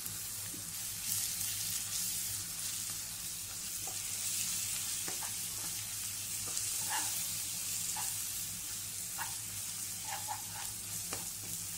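Egg puff filling of egg and masala being stirred in a hot pan, giving a low, steady sizzle with scattered light scraping and clinking of a spoon against the pan, fairly faint and close.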